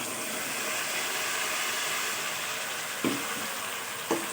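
A paste of ginger, garlic, onion and tomato sizzles steadily in hot oil for matar qeema, a constant close frying hiss broken by two brief stirring knocks near the end.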